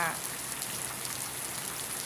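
Steady morning rainfall patters on surfaces in a dense, even hiss, with no clear voices over it for the full two seconds.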